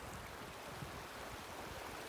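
A mountain creek on a backcountry pass along the Bow Valley Highline flows in a steady, faint broadband rush, continuous and even without talk.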